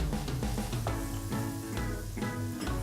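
Onions and garlic fry in a pan for a Bolognese meat sauce, giving a steady close sizzle with a few soft scraping stirs and no talk.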